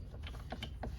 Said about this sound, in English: Get it broke loose with your ratchet